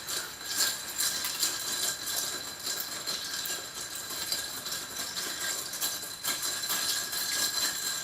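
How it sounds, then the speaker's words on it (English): Ice cubes rattle and clink in a mixing glass as they are stirred to chill it for a cocktail, a steady dense clatter running loud and close throughout with no talking. "Throw some ice cubes all over the place."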